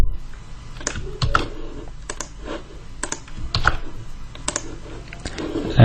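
Scattered, uneven keystrokes on a computer keyboard as figures are entered into an Excel spreadsheet, close-up, with short pauses between clusters of clicks and no talking.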